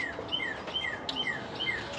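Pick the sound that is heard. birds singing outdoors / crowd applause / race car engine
birds singing outdoors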